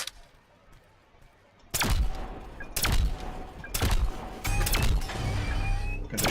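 Loud bursts of gunfire crack out in sharp, irregular volleys after a quiet opening, sounding close and punchy, in the video game The Signal From Tolva.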